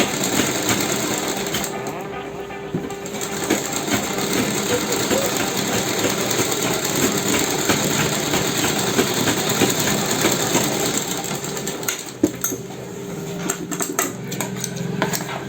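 A sewing machine stitches a double piping border on fabric, running in a steady, close, continuous whir with a rapid mechanical rhythm, pausing briefly, while a voice talks faintly in the background.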